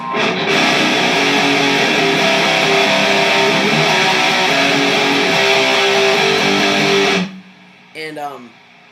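Sustained, heavily distorted electric guitar power chords ring out loudly for several seconds, then cut off, followed by a brief sliding note.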